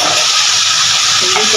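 Spices mixed and frying in a pan for Punjabi-style kadhi pakora, a loud, steady, close hiss of sizzling oil with stirring underneath, continuous throughout with no voices.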